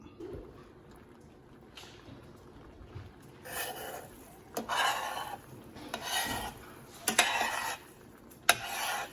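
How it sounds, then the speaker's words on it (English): A utensil scrapes and mashes refried beans in a pan with rasping, rubbing strokes in irregular bursts, interspersed with a few sharp clinks of metal on the pan, close up. "We'll just mash a little bit longer"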